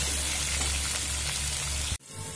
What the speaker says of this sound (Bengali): পরিমাণ মতো লবণ আর পরিমাণ মতো হলুদ দিয়ে মিডিয়াম ফ্লেম করে ভেজে নেব।